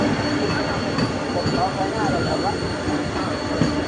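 A slow local train bound for Karjat rumbles steadily at a station platform, a loud continuous mechanical drone with faint voices underneath.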